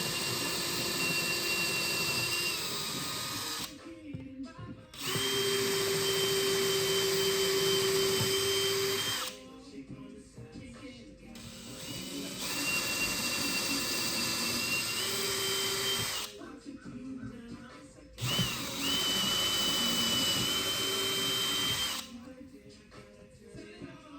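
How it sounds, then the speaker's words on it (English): A power drill re-drilling a hole in a custom skateboard curb carver whirs in several long bursts separated by short pauses, loud and close, with steady high-pitched motor whine during each run. "I think I'm gonna re-drill it."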